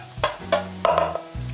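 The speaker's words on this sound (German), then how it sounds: "Und jetzt muss das Ganze nochmal so 4, 5 Minuten vor sich hin braten." Sweet potato and onion frying in a pan, a steady sizzle broken by a few quick stirring scrapes, close and moderately loud, with no voices.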